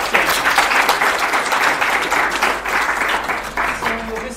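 Conference audience applauding a talk, dense sustained clapping filling the room for several seconds, steady and fairly loud, with faint murmur underneath.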